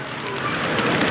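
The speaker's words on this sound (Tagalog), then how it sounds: "Tuloy-tuloy ang ulan natin mga guys." Continuous rain falls at night on a street, a steady even hiss of drops on hard surfaces with no talk over it.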